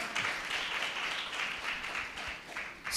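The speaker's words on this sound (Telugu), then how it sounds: "గట్టిగా చప్పట్లు కొడదాం" An audience at a religious gathering bursts into applause, a dense, continuous wash of many hands clapping together that holds steady for a few seconds without voices.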